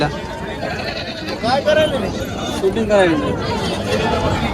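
Goats, including Osmanabadi goats and kids, bleat several times in wavering cries amid a busy crowd at a goat market in Parbhani, India, with people chattering and talking throughout.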